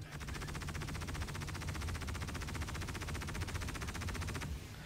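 Rapid sustained gunfire from the ship guns of an Aegis Eclipse in the Star Citizen space game, a fast even stream of shots at steady loudness that cuts off just before the end.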